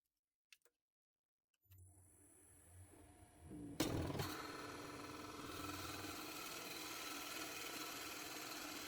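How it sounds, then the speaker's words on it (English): After a faint click and near silence, a motor spins up and a smaller drill bit bites into a wooden salt shaker's tenon with a loud crunch, then grinds steadily at a constant whine. "I use a smaller drill bit to deepen the chamber into the tenon."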